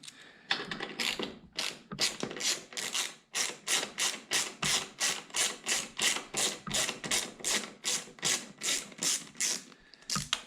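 A ratchet loosens a 10 mm carburetor clamp on a 2000 Yamaha XVS DragStar 125 motorcycle, giving close, loud, rapid pawl clicks in a steady series of about twenty regular back-and-forth strokes.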